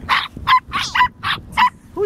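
Corgi puppy barking in a run of six quick, high yips and barks, close and loud, with a short whimpering note at the end.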